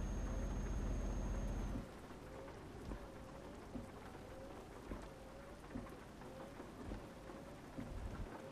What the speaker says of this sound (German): Was mich so ein bisschen gerade nervt, ist jetzt, dass es regnet.